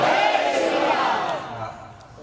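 A crowd at a Gita spiritual gathering shouts a loud religious chant together, a brief massed vocal burst that fades over about two seconds.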